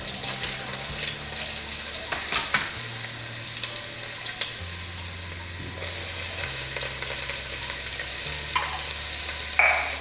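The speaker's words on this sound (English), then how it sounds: "I'm gonna start sauteing my onions and peppers" Onions and peppers sautéing in heated oil in a single pot for poblano chicken squash chili, with a constant sizzle, occasional stirring scrapes, and soft background music underneath.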